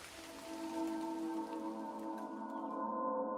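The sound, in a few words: heavy rain getting stronger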